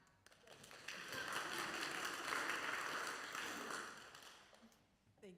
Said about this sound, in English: Yes, we can clap.